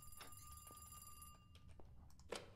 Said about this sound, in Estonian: Telefon heliseb, guys.